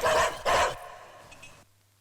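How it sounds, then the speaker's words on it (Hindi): A dog gives two loud, close barks in quick succession, followed by a fading tail of softer background noise. "तुम जाबे कुत्ते!"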